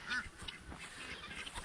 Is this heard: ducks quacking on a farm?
yes